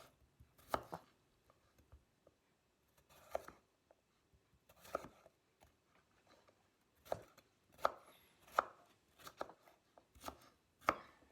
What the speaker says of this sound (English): we'll chop up our carrots, bite-sized pieces